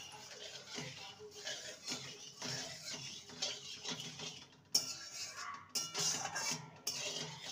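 A metal spoon mixing mango pickle spices with asafoetida in a steel bowl, with repeated scraping and clinking strokes in an uneven rhythm, close and fairly quiet.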